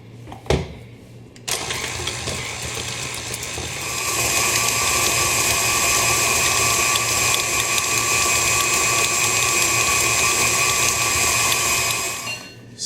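An electric stand mixer with a paddle attachment creams room-temperature unsalted butter for chocolate cupcakes. After a brief clunk at startup, the motor settles into a loud, steady whir and rattle that runs for about eight seconds, then spins down.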